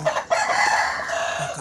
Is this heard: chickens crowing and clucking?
yes